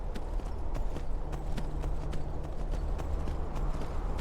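Hooves clip-clop steadily from a horse in the video game Skyrim, an even, rapid trotting rhythm close up over a thick rumbling background, continuous for a few seconds with no talk.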